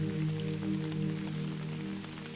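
Steady rain falling in a continuous soft hiss, even and unbroken throughout, with a faint low hum beneath and no voices.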